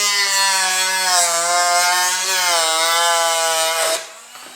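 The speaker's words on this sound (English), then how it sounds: "got the handy-dandy Dremel out, and we're gonna Dremel things flat" A Dremel rotary tool grinds tabs flat on a Suzuki DRZ400 motorcycle's 3-gallon fuel tank, giving a steady, loud, high-pitched whine that holds for about four seconds before cutting off abruptly.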